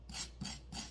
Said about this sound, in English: you only need to scrape your carrots